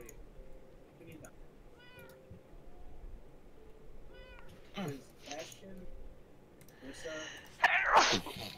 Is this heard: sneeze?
yes